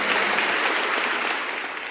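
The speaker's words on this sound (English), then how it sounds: "Stalin's ovations were so long because no one dared to be seen as the first to stop clapping" Prolonged, dense applause from a large crowd giving an ovation to Stalin, a steady wash of many hands clapping at once, loud and continuous with a slight fade toward the end.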